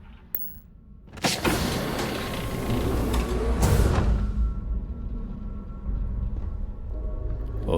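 A heavy sliding door grinding open in the space game Starfield, a long mechanical whir and creak that rises sharply, holds for a few seconds, then settles into a low hum.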